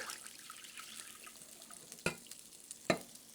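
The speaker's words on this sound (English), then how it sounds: "Into that pan, I'm going to add zucchini. And we're going to fry that." Zucchini frying in a pan with oil, a soft steady sizzle at low volume, broken by two sharp clinks of utensils against the pan.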